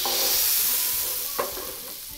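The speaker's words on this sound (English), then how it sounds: "Let's move the butter and the oil around in the pan just a little bit so it's nice and evenly coated all over." Butter and olive oil sizzle in a pan as they are moved around, with a steady close frying hiss and soft stirring scrapes, plus one brief louder clink partway through.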